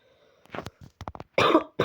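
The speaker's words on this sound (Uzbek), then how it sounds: "Yo'tal uchun kechirim so'raymiz." A young man coughs several times close to the microphone, a string of short harsh bursts followed by two heavier, longer coughs, with nothing else heard.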